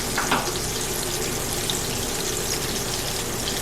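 Onion rings made from 1015 sweet onions fry in hot oil, giving a steady, dense, close-up sizzle that carries on without a break.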